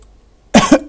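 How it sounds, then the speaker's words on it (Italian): After a quiet pause, a person lets out two or three sharp, close coughs in quick succession while playing Minecraft. "ma mi è venuto un po' di tosse"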